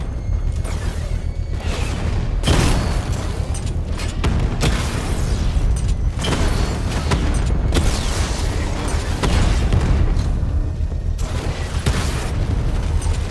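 A drone blows up during combat in Batman: Arkham Knight, with dense, continuous booming blasts and mechanical rumble that carry on loudly throughout, without pauses.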